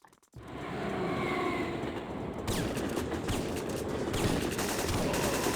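Gunfire crackles through a shooting sequence in the Syphon Filter video game, including shotgun blasts. A sudden start opens into a loud, sustained burst of rapid, noisy reports with no voices over it.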